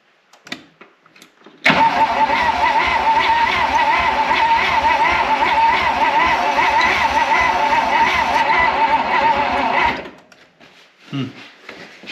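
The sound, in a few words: 1956 Oldsmobile 88 engine cranking while choked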